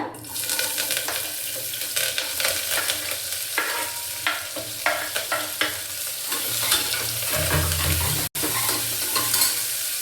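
Onion, green chili and curry leaves frying in oil for hotel-style kurma, with steady close sizzling and crackling plus scraping stirs, and one brief dropout near the end.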